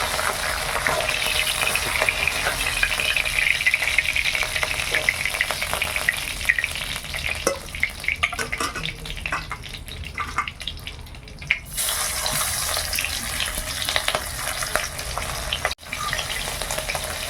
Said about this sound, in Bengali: তেলটা কম গরম হয়েছিল, তখনই মাছটা দিয়ে দিলাম